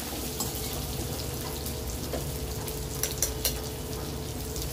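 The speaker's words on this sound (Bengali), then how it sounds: "আদাটা দিয়েও ভালো করে নেড়েচেড়ে ভেজে নেব।" Ginger and tomato frying in a pan for a mustard and poppy seed dish, a steady sizzle with soft stirring scrapes and a few sharper clicks, close up with no talking.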